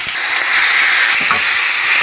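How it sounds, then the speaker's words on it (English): Ground beef and diced onion browning in avocado oil in a skillet, giving a steady, loud hiss and sizzle throughout with no talking. "next we're gonna brown up our ground beef with about 1/4 cup of diced onion"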